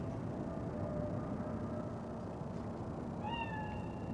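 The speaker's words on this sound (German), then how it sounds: "Ist nur eine Katze." A cat in Cyberpunk 2077 gives a short meow near the end, faint over a steady low rumble of city ambience.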